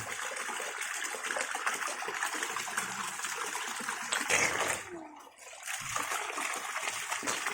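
A SunSun JTP 5800 pump pushes out a strong continuous gush of water, splashing and rushing close by, with a brief dip in flow before it resumes.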